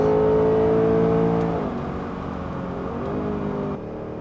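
A 2024 Ford Mustang GT engine revs hard and accelerates, a loud close roar that climbs in pitch, then drops and settles into a lower, steady drone.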